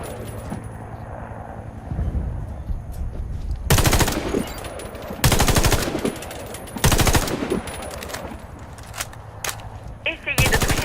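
Automatic gunfire in the first-person shooter Warface, several loud sustained bursts separated by short pauses over game ambience and faint background clatter.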